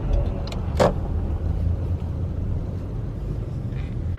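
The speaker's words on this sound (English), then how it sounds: "Get out of this car's way." A car drives past on a road, a steady low engine and tyre rumble close by with a short sharp click partway through, no voices.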